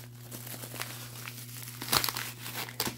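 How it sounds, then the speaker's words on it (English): Crinkly plastic packaging around a pen is handled close up, giving irregular rustling crackles with sharper bursts near the end and no talking. "Sorry if you don't like crinkly plastic."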